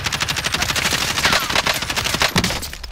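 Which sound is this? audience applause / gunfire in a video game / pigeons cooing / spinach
gunfire in a video game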